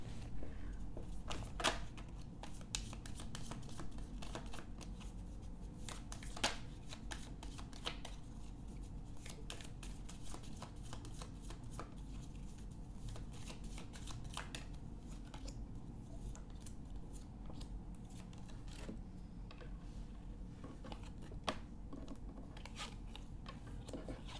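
Angel oracle cards being shuffled, a long quiet stretch of soft riffling and flicking with scattered sharper snaps, close but faint.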